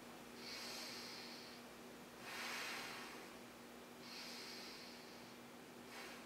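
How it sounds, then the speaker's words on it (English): Slow, steady breathing through the nose with the mouth closed, close and soft, in a quiet room. Airy inhales and exhales alternate at a relaxed, regular pace. "So shut your mouth and just breathe with your nose."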